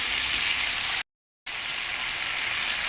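Fish sizzling and frying in a pan as a little water is added, a steady dense hiss that cuts out briefly for about half a second and then resumes just as loud.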